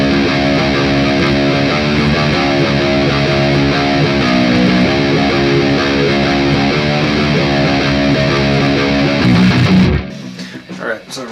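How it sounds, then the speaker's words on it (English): Palm-muted open seventh string on a heavily distorted electric guitar, chugging in a tight steady rhythm for the ending of a song, loud and dense until it stops sharply with a brief ringing tail. "it's going to be the open string on the 7th string. And again, just palm muting."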